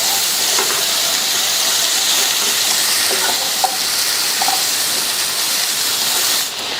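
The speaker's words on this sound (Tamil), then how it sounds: "இப்ப ஒரு 3 நிமிஷம் ஹை ஃப்ளேம்லயே வச்சு வதக்கிட்டு இருக்கோம்" Steady sizzling hiss of cauliflower frying in masala in a pan on high flame, loud and continuous, with a few faint clinks of a utensil stirring.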